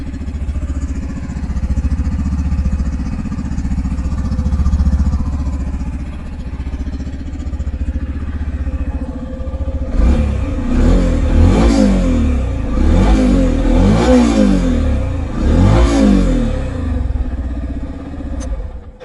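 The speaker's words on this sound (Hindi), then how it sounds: "ये साउंड है कुछ इस तरह का मोटरसाइकिल के साथ में।" A Yamaha FZ-S motorcycle engine idles steadily up close, then revs hard several times in quick succession before settling back to a low rumble.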